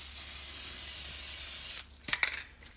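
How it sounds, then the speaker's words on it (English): A steady aerosol spray of brake quiet onto brake pads hisses close by for nearly two seconds, then stops, followed by a few short clicks and taps. "I like to spray some brake quiet on there just to help with any squeaks"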